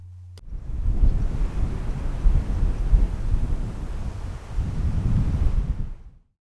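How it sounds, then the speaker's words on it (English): Strong wind outdoors on a very windy day in West Norfolk heathland roars and buffets the microphone as a deep, continuous rumble that surges and eases for several seconds before cutting off. "I really struggled with the wind"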